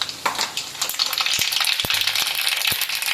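Mustard seeds hit hot oil in a pan, giving a steady bright sizzle with a few sharp pops and crackles scattered through it, close and alone with no talking.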